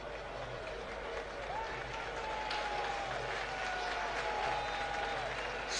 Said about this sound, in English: Some round of applause from the fans for the top scorer with 7 goals.